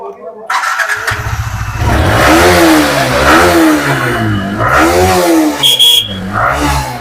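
A fresh-condition 2019 Yamaha R15 V3 BS4 motorcycle starts up close by, then its engine is blipped through several rising and falling revs in a loud rhythmic series.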